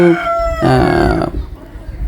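Hens on a small egg farm, including a young new breed of laying hens, call out with a rooster-like crow and clucks, loud and close, the call rising and then trailing off into a short burst of farmyard noise.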